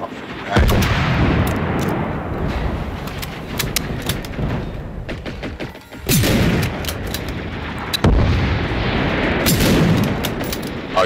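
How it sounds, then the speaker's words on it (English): Rapid bursts of loud gunfire in Generation Zero aimed at a robot's back-mounted missiles, with sharp repeated shots and booming impacts continuing across the stretch and a short gap near the middle. "Shoot off his missiles off his back."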